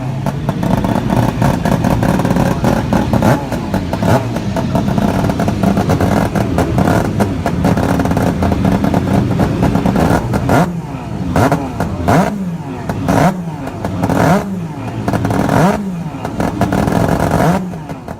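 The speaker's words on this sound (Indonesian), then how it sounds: "karakter suara yang dihasilkan mesin ini sangatlah berbeda dari mesin piston pada umumnya" A rare rotary Wankel-engined trail motorcycle runs close and loud, a dense buzzing drone that rises and falls through repeated revs, smoother and more continuous than a piston engine, with no voices.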